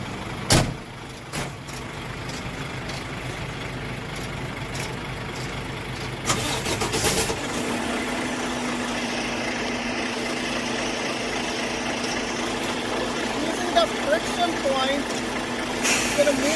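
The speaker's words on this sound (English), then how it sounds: "Alright, so I'm gonna start the truck." A semi truck's engine cranks and catches to start in the middle of the stretch, then settles into a steady idling rumble. Faint clicks and knocks come before the start, and a person talks over parts of it.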